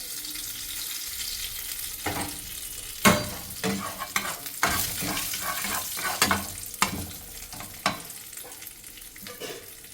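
Food being roasted until crisp in a pan with a little salt, steady sizzling and frying with intermittent sharp scraping and stirring clicks, close and moderately quiet, no voices.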